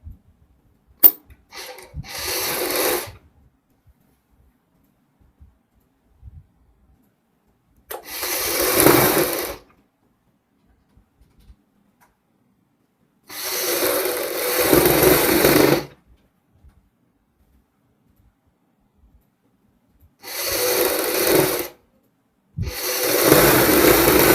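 A sewing machine runs in five separate bursts of stitching, each lasting one to three seconds with quiet pauses between, as pieces of a suit cut from an old embroidered one are joined along a centre seam. No one speaks.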